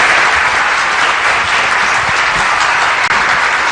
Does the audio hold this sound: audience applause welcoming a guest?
yes